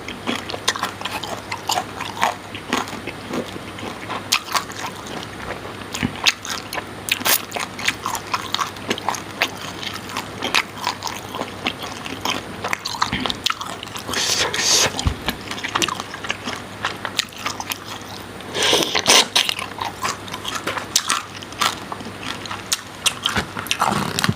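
Crunchy cos lettuce eaten alongside large red snow shrimp, loud close bites and chewing crunches repeating steadily throughout with wet mouth sounds, and no speech.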